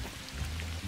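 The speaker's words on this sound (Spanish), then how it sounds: "Aquí está lloviendo todo el santo día." Steady rainfall in the hunting game theHunter: Call of the Wild, a soft, even hiss of falling drops heard faintly as continuous background ambience.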